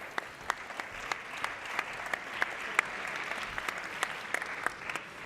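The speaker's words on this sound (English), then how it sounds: "Round of applause for Nacho." A conference audience claps after a guest is introduced at a fireside chat during 4YFN 2018. The applause is moderately loud and steady, with sharp individual claps standing out throughout.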